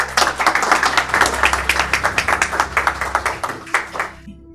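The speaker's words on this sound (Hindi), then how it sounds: "खुदावंद के जलाल के लिए जोरदार तालियां।" Audience clapping at a Christian evangelistic sermon gathering, loud and steady with distinct rhythmic claps throughout, close and energetic, trailing off at the end.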